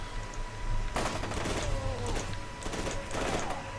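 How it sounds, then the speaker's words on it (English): Burst-fire gunshots from a weapon in the video game F.E.A.R. 2, several rapid clustered bursts with crackling impacts over a steady low game ambience, fairly loud and close. "So that's Burst Fire."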